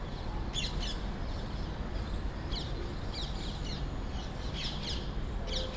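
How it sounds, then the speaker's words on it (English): Small birds chirp in scattered short bursts over steady outdoor background noise in a polluted city, distant and faint, with no voices. "Look at the birds around."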